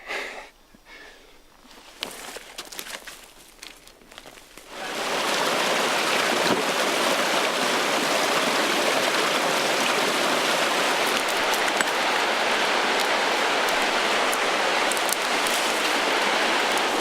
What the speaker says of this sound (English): So this river we just crossed